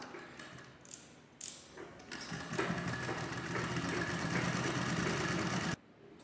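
Sewing machine stitching a newborn baby diaper, a steady whirring run of rapid needle strokes lasting several seconds after a few short starts, close and fairly quiet, then stopping abruptly.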